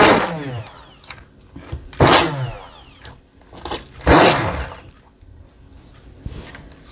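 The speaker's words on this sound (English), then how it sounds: "I'm going to use my hand blender and quickly" A hand blender purees tomatoes for a spicy tomato choka salsa in about four short, loud whirring bursts, close up, with brief quieter gaps between them.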